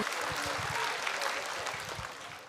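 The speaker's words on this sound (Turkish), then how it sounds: "Alkışlar." Applause at a Crimean Tatar concert for the Hıdırellez festival, a steady wash of many hands clapping at moderate distance, fairly faint, with low thumps underneath.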